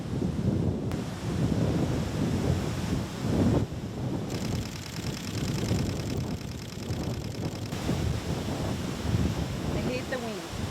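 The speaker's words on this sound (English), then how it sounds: "I hate the wind." Strong wind buffeting an outdoor microphone, a constant loud roar with gusty surges and hissing bursts, during water drop photography outdoors.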